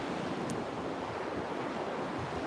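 Ocean waves washing onto a beach, a constant broad roar with wind buffeting the microphone, no voices.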